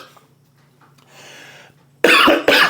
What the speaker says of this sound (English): And he's almost dying from coughing.